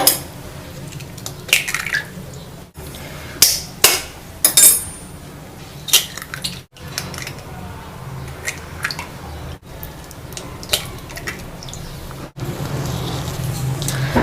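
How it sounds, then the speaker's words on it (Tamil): Four eggs beaten in a bowl for egg paniyaram, with close wet squishing and repeated fork or whisk clinks against the side, coming in uneven bursts separated by short pauses. "4 முட்டை இப்போ பீட் பண்ணிக்கலாம் பணியாரத்துக்கு"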